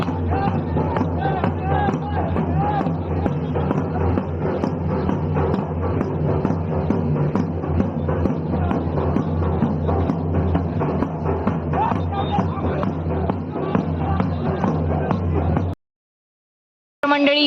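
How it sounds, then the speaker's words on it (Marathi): Dense crowd at a Hudo village festival shared by Kunkeri, Ambegaon and Kolgaon, a steady loud babble of many voices and commotion that runs unbroken before a brief cut to silence near the end. "बघा ही गर्दी"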